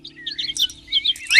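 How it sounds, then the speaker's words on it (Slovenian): Spring birds chirp and tweet in a quick run of bright, high notes, close and fairly loud over a faint steady hum, with no talking. "so tudi vas budile ptice?"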